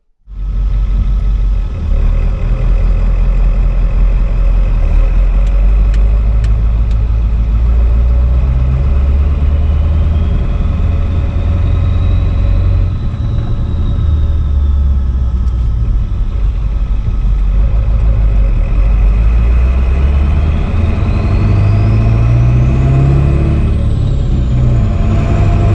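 A Ford 7.3 diesel truck drives along with a steady, loud engine drone and whistling turbo spooling up and down, rising in pitch toward the end, heard close with no talking.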